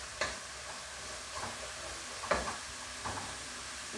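Onion sautéing in a pan gives a steady close hiss of frying, broken by a few soft scraping stirs of the utensil at regular intervals, with no voices.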